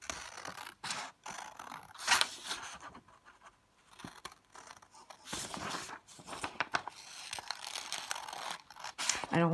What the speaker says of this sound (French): Une fois qu'on a terminé de tracer, on va découper